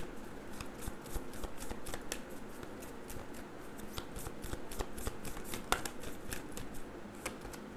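A deck of tarot cards is shuffled close up, giving a quick run of soft riffling, snapping card flicks that go on at a steady pace without any talk.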